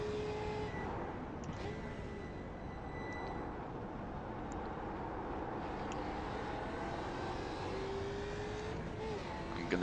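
Mustang FR500S race car engine in iRacing at Brands Hatch, a steady, fairly quiet engine drone with faint pitch sweeps and no talk.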